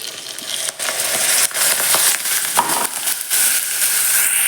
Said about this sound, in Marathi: तेल घातलं यात कढीपत्ता जिरे याची फोडणी देऊन घेतली आता यामध्ये ही ग्रेव्ही टाकते